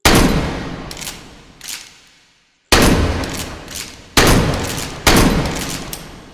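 Loud shotgun blasts in the VR game H3VR, about five sharp reports with decaying tails, separated by short gaps and one near-silent pause.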